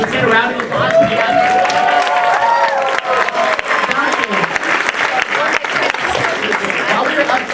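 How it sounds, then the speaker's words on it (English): An audience at a medical school skit night applauds steadily, a dense mass of clapping and cheering that holds from start to finish with voices mixed in. "Let's get a round of applause for the"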